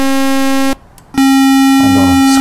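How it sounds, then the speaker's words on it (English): A bright, buzzy sawtooth wave tone from the VCV Rack software synthesizer holds steady, cuts out briefly, then returns as a sustained harmonic-rich drone with a faint lower tone creeping in. "saw wave,"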